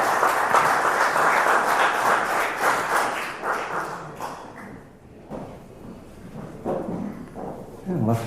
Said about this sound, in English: Let's give a big round of applause for Ingrid.